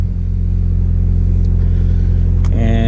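A Mitsubishi Lancer Evolution X MR idles steadily while warming up, a loud, close, continuous low rumble, with a brief rise in engine note near the end.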